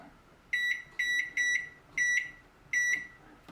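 A microwave oven holding garden compost for sterilising gives five clear electronic beeps, evenly spaced and close by, over a faint low background hum.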